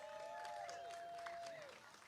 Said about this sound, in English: Round of applause for our bronze medalist